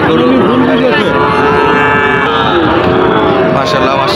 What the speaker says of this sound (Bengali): গরুর কিন্তু অভাব নাই, প্রচুর পরিমাণে গরু।